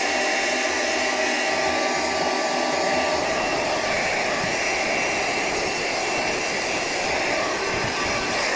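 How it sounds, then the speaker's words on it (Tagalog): A Bosch vacuum cleaner runs with a steady, loud broadband whoosh and high whine, its low rumble deepening after the first few seconds, continuous and close throughout with no talking. "dahil meron tayong Bosch na vacuum, kaya gamitin natin siya"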